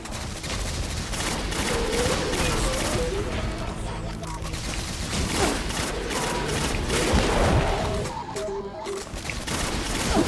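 Exotic weapon fire in a video game rattles in a dense, continuous fusillade of rapid shots with booming thuds for about ten seconds. The fire is loud and close.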